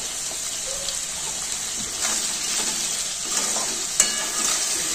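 Pieces of fish for chilli fish fry in a pan, making a soft, even sizzle while a spatula stirs and turns them with occasional light knocks and scrapes.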